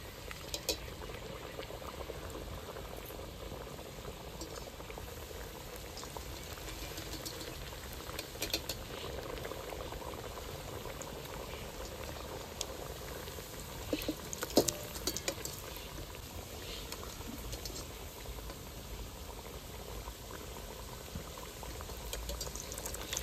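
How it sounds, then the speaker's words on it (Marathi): Onion-potato kachori deep-frying in a kadhai of hot oil over low heat, a steady, soft continuous bubbling and sizzling with occasional faint clinks, no talking. "अशा प्रकारे आपण आता बाकीच्या कचोऱ्या पण तळून घेऊ."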